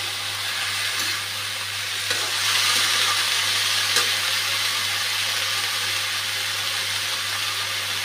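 Potatoes fry in a hot pan with a loud, steady sizzle and hiss, broken now and then by stirring scrapes and louder crackles, heard close up with a low hum underneath.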